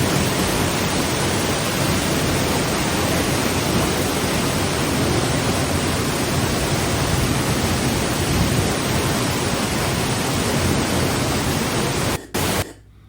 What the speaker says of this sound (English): This is, again, inside the waterfall,